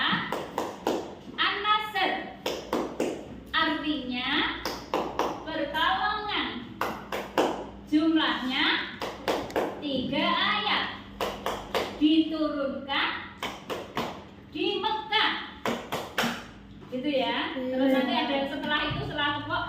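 Children in a classroom clap out a rhythmic chant for Surah An-Nasr, quick bursts of claps mixed with group voices chanting along, busy and fairly loud throughout.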